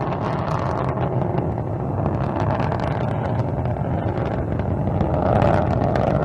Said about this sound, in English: Engines reported to be operating normally from the blockhouse at Baikonur.